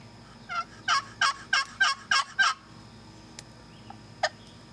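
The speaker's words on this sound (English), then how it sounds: "If you're looking for a good box call, you can't go wrong with those Lynch calls" A Lynch wooden turkey box call with a painted paddle gives six quick, loud yelps in a steady rhythm, followed by a couple of faint, sharp clucks, with no voices.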